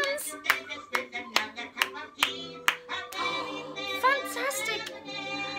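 Hands clap in a quick, sharp run, likely children clapping along in a kids' storytime show, then a sung tune and music take over for the second half.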